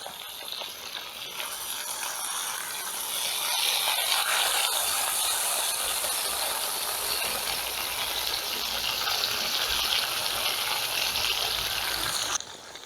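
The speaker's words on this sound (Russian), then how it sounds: "И теперь немного добавляем грамм 100-150 кипяченой воды." Boiled water, about 100 to 150 grams, is poured into a kazan over onions and kebab, giving a steady rushing hiss that builds and holds for several seconds before cutting off.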